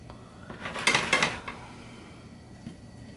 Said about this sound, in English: I'm gonna mix it together so that way we can bread the eggplant